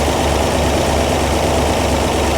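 Car engine idling steadily during an idle mixture screw adjustment, a continuous low rumble heard close and alone with no talking.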